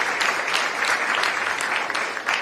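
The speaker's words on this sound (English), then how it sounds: "Please join me in giving Michael a big round of applause." Audience applause at an announcement event for a healthcare-focused initiative, with steady, fairly loud clapping from a crowd over a couple of seconds and no voices.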